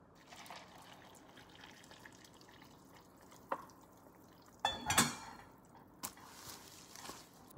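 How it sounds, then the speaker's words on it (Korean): Running water trickles and drips during cleaning, with faint splashes and a few sharp clinks of dishes or utensils, the loudest bursts clustered near the middle, close and without talk. "이참에 물 청소하는 거죠"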